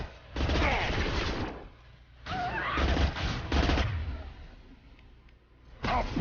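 Gunfire in Mass Effect 2 comes in several loud, rapid bursts separated by short pauses, with a low, booming body to each burst.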